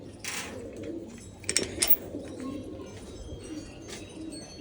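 Pigeons coo softly in a loft, low murmuring calls repeating against a faint background hum, with a couple of slightly louder coos near the middle.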